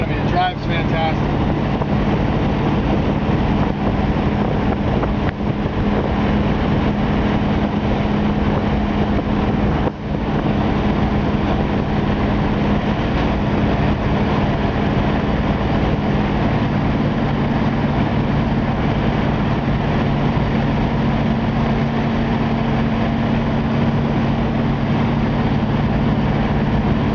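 A 1963 Ford Galaxie convertible cruising along, its steady low engine drone and road rumble running continuously and fairly loud throughout, with someone talking over it.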